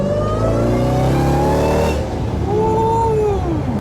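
A 2018 Jeep Trackhawk engine revs hard under acceleration, loud and close with rising pitch through gears, then drops and climbs again after a shift.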